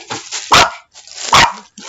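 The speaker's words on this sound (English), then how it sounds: "That's Lulu barking" A dog barks twice, loud and close, with sharp broadband yelps about a second apart and some softer sounds between them.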